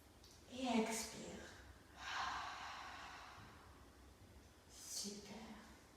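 Audible mouth exhalations during a children's yoga breathing exercise, three soft breathy puffs spaced a few seconds apart, close and quiet against low background noise.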